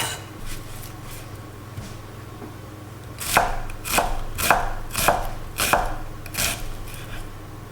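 A very sharp kitchen knife chops onions on a board, about seven crisp, evenly spaced cuts in the second half, close and fairly loud over a low steady background hum.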